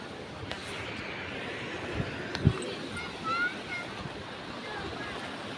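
Sea waves washing the shore at Gopnath during a fair, a steady broad surf hiss with wind noise and a couple of brief knocks, moderately faint and without a close foreground sound.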